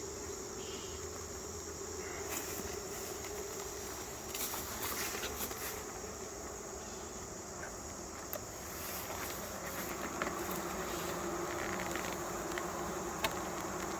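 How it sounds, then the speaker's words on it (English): Angry honey bees buzzing around an open hive in the evening, a steady dense hum with individual bees zipping close past, plus faint handling clicks. "There's going to be some mad bees"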